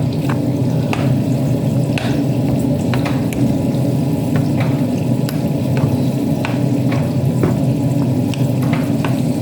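Melting sugar and thick cream stirred in a pan for caramel gives a steady, close bubbling sizzle, with light spoon taps and scrapes recurring at irregular intervals and no talking.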